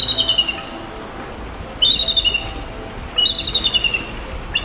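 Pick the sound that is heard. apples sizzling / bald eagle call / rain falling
bald eagle call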